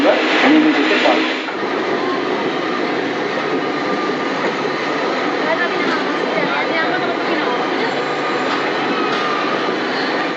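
Ranchi Kamakhya Express (15661) halting at Azara station, a steady rumble of rail and station noise running throughout, with a voice briefly heard near the start.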